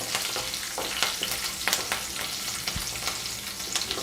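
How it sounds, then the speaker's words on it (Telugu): Green chillies sizzle and fry in a pan on a stove over low heat, a steady close crackling hiss with scattered sharper pops and spits throughout. "స్టవ్ అనేది ఇప్పుడు సిమ్లో ఉంచుకుని ముందుగా పచ్చిమిర్చి ముక్కలు సన్నగా 2 పచ్చిమిర్చి వేసుకుంటున్నాం"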